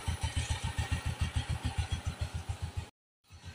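A second-hand Honda XRM 110 motorcycle engine idles close by with a steady, rapid thumping pulse, then cuts out abruptly before a faint rumble returns.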